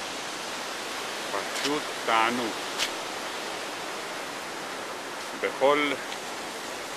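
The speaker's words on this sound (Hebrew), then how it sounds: "שומעים את רחש המים הזורמים, את רעש המים הזורמים" Flowing water of a mountain stream in the Dolomites, under light rain, makes a constant broadband rush throughout, with someone speaking briefly over it twice.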